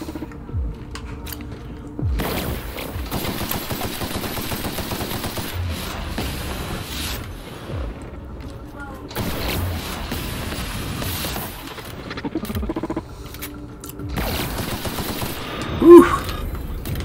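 Rapid bursts of electrical weapon fire in The Outer Worlds, loud and close, coming in long sustained volleys separated by short pauses, with mechanical clatter and a sharp bright spike near the end.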